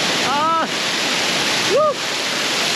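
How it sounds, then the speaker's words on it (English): A waterfall at the Iberostar Maya Suites resort in Mexico pours in a loud, steady broadband rush, with two brief voiced calls rising above the roar. "Gotta get in this waterfall."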